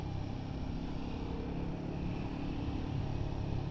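A Royal Enfield Guerrilla 450 motorcycle pulls away in third gear with a steady, deep engine rumble that holds fairly even, heard from close by without any talking.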